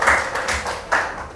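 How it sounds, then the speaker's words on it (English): A classroom group claps for a student group in a few short bursts of applause, light and close by, with faint room sounds between them. "Applause for you, group."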